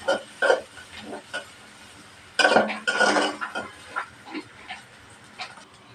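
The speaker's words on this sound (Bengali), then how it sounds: "পেঁয়াজটা ভালোভাবে ভাজে নেব।" Chopped onions fry in a pan with cinnamon, cloves, cardamom, bay leaves and green chilies, giving a sizzling hiss broken by a few louder scraping stir strokes, close and moderately loud.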